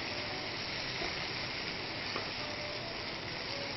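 Bell peppers fry in a pan with a dense, even sizzle that holds steady and close throughout, with no voices.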